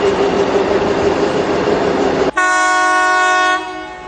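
A train rumbles past loudly, then a long steady locomotive horn blast sounds, fading slightly at the end.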